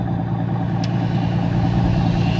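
A Maybach Exelero's engine drones low and steady while driving, a deep continuous rumble with a brief faint click partway through and no voices.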